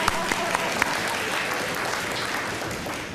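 Audience clapping at a college convocation, a dense steady wash of applause from a large crowd lasting throughout, with a few sharper claps standing out near the start.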